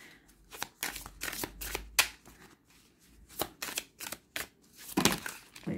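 Oracle cards shuffled for a pyramid-spread reading, a run of crisp riffling bursts close to the mic with short pauses between them, no talking.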